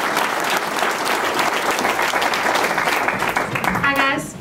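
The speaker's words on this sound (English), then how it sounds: "So please give all 3 of them a round of applause as they come." A banquet audience bursts into loud, dense applause for three people coming up, sustained steadily throughout with a brief voice rising at the end.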